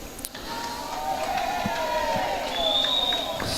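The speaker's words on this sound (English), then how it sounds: "nice cheer from the crowd there" Crowd cheering and applauding at the 2024 Australian Championships women's triples lawn bowls gold medal match, QLD vs WA, a sustained broad roar of many voices holding steady for several seconds.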